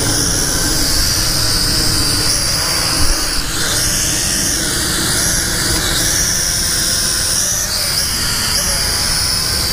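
A Hongwang HM7016 detachable RC aircraft hovers nearby with a loud, steady high-pitched motor whine and propeller buzz, its pitch wavering slightly as it holds altitude, with no other sounds on top.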